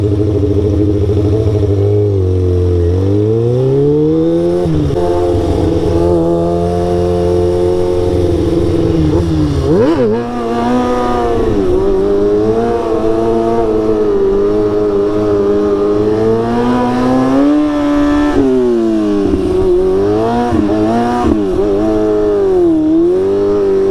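Motorcycle weaving through city traffic for a stunt-riding moto vlog, its engine loud and close throughout, revving up and easing off repeatedly with shifting pitch as it threads between cars.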